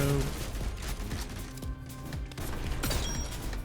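Rapid sniper rifle fire in a Roblox video game, with loud repeated shots and impacts packed closely together.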